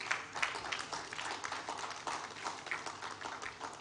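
Scattered, moderate applause from an audience at the 15th Abuja International Housing Show, greeting Ghana's Minister of Works and Housing with a rippling patter of individual claps.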